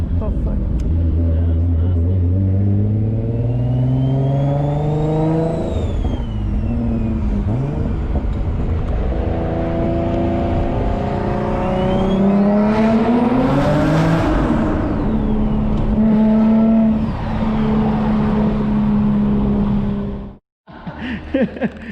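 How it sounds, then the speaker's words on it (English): A turbocharged Infiniti G37 coupe with a single-turbo build revs loudly and steadily, its engine note climbing and falling in pitch over about twenty seconds before cutting off abruptly. "we are working on Rommel's soon to be single turbo G37 Coupe."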